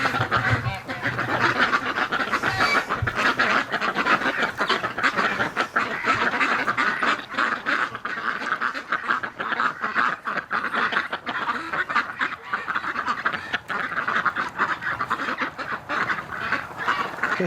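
A flock of ducks quacks and honks continuously and loudly at close range, overlapping calls filling a winter outdoor scene, with a person's voice faintly beneath.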